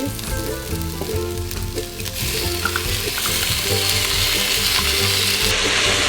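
Onions, garlic and canned green chilies sautéing in an Instant Pot, a close, loud and continuous sizzle that swells stronger partway through, with a low tonal hum underneath and no talk.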